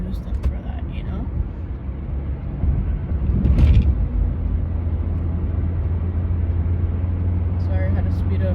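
Car passing close by on a road, a steady low rumble building to a louder peak mid-clip and holding as a broad road roar with faint wind noise.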